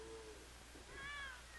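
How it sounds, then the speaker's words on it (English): A barn cat in a dairy barn gives a single short, faint meow over a low steady hum of background noise, with no one talking. "Also in this barn are a cat and her kittens."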